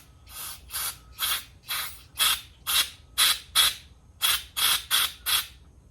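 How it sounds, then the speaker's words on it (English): Repeated short bursts of carburetor cleaner sprayed into the carburetor of a Harley-Davidson 883 Sportster that had sat for eight years, about a dozen hissing spurts in a steady rhythm, close and fairly loud, with no talking. "Carb cleaner down in there."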